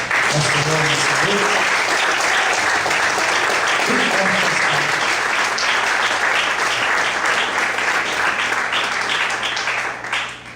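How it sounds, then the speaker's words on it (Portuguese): A church congregation applauds loudly during a sermon, dense continuous clapping and cheering filling the room from start to finish, fading slightly at the very end. "Será que você pode aplaudir bem forte?"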